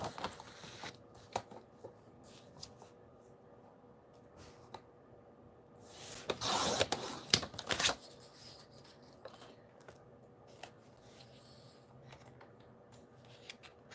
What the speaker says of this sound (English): I'm gonna cut this one up right here.